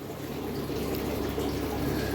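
Water pours steadily into a tub, mixed cold and warm, to bathe a carpet python; a continuous, close rushing splash with no talking.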